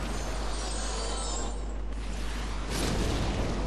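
A blast goes off in Demon's Souls inside the Boletarian Palace, a dense, roaring burst of noise that swells and swishes over a constant loud game background, with no talk.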